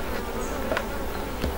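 Honeybees buzzing steadily at a beehive, a close, continuous hum with a few louder passes, no talking.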